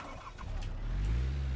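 A car engine in a multiplayer video game cranks and catches, then settles into a steady low rumble that swells slightly toward the end, with no talking over it.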